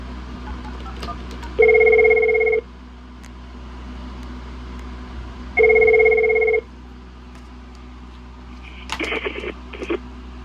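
A Mitel 5324 IP phone plays its electronic ringtone in two evenly spaced bursts, clear and fairly close, followed by a few soft clicks.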